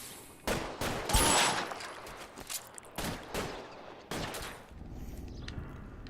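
Scattered gunfire in the video game L.A. Noire, several sharp shots spread over a few seconds at moderate distance, with a clattering burst early on and quieter ambient noise between the shots.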